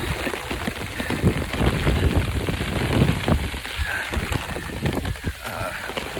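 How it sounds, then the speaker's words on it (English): Steady rain patters and splashes on surfaces nearby on the Appalachian Trail, a constant wash of drops with scattered louder taps. "So yeah, it's raining."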